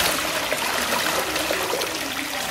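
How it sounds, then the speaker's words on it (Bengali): Water gushing into a bathtub in a steady, loud, continuous rush, close by and alone. "জলটা দিয়ে দিচ্ছি"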